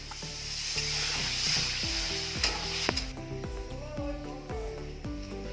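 Mustard-poppy seed paste hits a pan of taro stolons and sizzles steadily, a close, continuous frying hiss, with a muffled voice drifting in the background.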